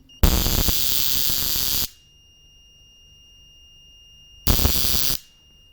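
Multimeter continuity buzzer on an Arduino and spark-gap transformer setup. Two loud, harsh electronic buzzes sound alone: a long one of about a second and a half, then a pause, then a shorter one.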